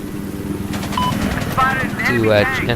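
A helicopter in a multiplayer military video game thrums with rotor chop and engine whine under game effects and a person talking.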